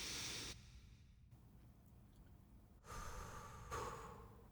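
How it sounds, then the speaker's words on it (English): Slow guided breathing during somatic meditation: a soft breath drawn in, a quiet pause, then gentle breaths out and in, faint and close with no talking. "Breathing in."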